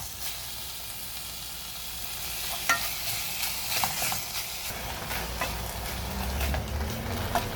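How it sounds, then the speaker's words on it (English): Minced meat fries in a pan with added fat and is stirred steadily, giving a continuous close sizzle with scraping and clinking from the spoon and no voices. "So you will keep stirring to avoid the meat getting lumpy."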